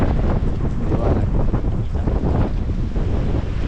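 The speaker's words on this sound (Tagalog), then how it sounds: "Lakas pa naman ng hangin tapos iba yung ihip eh" Strong wind gusts over the open sea near a fishing boat, a loud, continuous buffeting roar battering the microphone with rushing surf mixed in, close and unbroken, with no voices.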